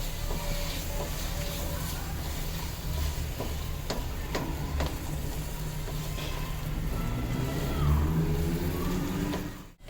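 Potato and pea kachori filling being stirred in a hot pan, a steady soft sizzle and hiss with occasional spoon scrapes and taps throughout.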